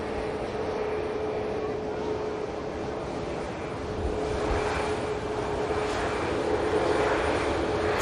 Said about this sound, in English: Aircraft next touchdown.